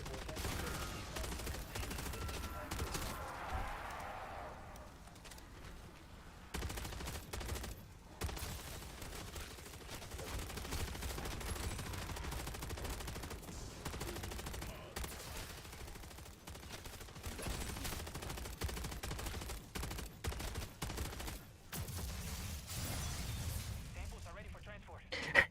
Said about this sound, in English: I'm just shooting at whatever moves.